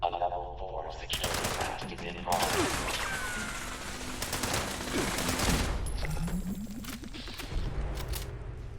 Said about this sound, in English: doing a test fire here